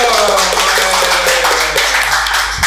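Studio audience and hosts clapping to welcome a guest during a podcast, a loud burst of rapid hand claps mixed with chatter, close and sustained.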